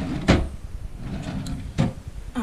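A nightstand drawer beside a double bed in a rented apartment bedroom, heard as two short wooden knocks or slides roughly one and a half seconds apart over a quiet room.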